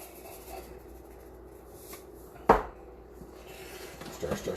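Pasta carbonara stirred in a pan, with quiet scraping and rubbing of a utensil against the pan, one sharp loud clank midway, then a few lighter knocks near the end.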